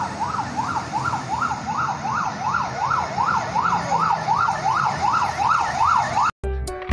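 A toy ladder fire truck wails with a steady electronic siren, rising and falling in quick even cycles and loud throughout, then cuts off abruptly near the end with a brief clatter.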